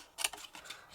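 Scissors snipping around a stamped woodland critter paper image for a journal page, a few quiet crisp clicks and cuts spaced across a second, close and alone.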